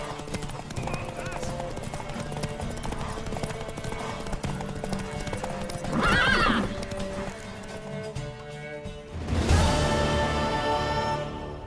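Horse hooves clop steadily in a medieval fantasy video game, with a horse's whinny rising midway and another near the end, set against game music and characters talking.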